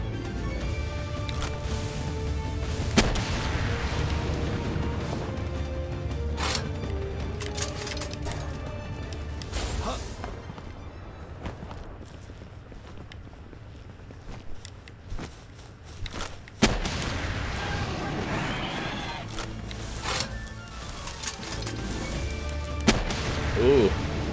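Gunfire in Palworld aimed at the legendary Jetragon: repeated booming shots and blasts over a rumbling game soundscape, with talking throughout.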